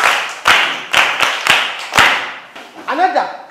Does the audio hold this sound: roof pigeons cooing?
no